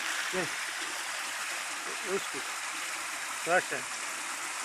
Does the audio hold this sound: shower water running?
yes